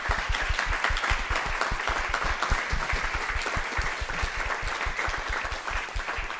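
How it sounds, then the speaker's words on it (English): A concert audience applauds the parents at a music competition final round, many hands clapping in a loud, sustained, evenly rhythmic ovation from start to finish. "Let's have a clap for all the parents, I think."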